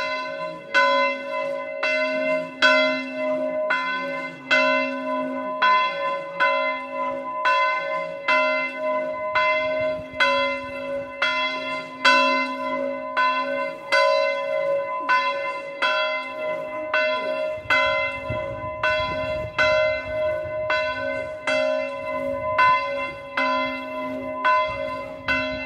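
Church bell in the village of Soriu di Tenda in Corsica's Nebbiu region, ringing in a steady, evenly spaced toll with long resonant hum, loud and unbroken for nearly half a minute.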